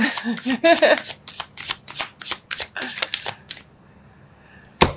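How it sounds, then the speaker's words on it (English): Tarot deck shuffled and cards pulled, giving a quick series of sharp close riffling snaps that thin out into a pause and end with one final flick, while a voice speaks briefly near the start. "I'm going to pull a suggestion card for you"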